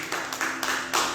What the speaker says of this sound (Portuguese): Você pode desocupar a sua mão e aplaudir bem forte o nome do Senhor nessa noite?